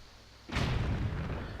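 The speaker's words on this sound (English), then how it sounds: "we can blow up this rock on this island" A bomb in The Legend of Zelda: The Wind Waker HD blows up a rock on an island, a sudden loud boom that rolls on and slowly fades after a quiet start.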